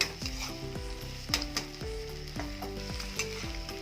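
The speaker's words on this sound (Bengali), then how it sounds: "খুন্তি দিয়ে এইভাবে ছোট ছোট করে দেবো" A spatula scrapes and chops a frying egg into small pieces in a hot pan, with steady frying crackle and repeated tapping strokes against the metal.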